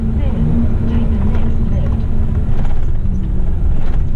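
A truck rolls along an Australian road at night with high beams on, its steady low engine drone and road rumble filling the cab continuously, with someone talking over it.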